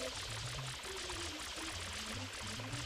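Fludd's water nozzle sprays steadily in Super Mario Sunshine at Sirena Beach's hotel lobby, a soft continuous rushing stream heard faintly and alone for about three seconds.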